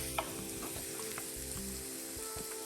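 Onions cooking down in a pan for stewed red snapper, a continuous close sizzle with a few light clicks and scrapes of stirring, no one talking.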